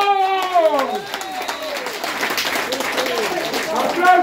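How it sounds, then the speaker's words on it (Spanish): Clapping from a group of older adults at a Christmas celebration in Riosucio, Caldas, mixed with voices and cheerful chatter, a steady burst of hands lasting a few seconds. "¡Aplausos para todos!"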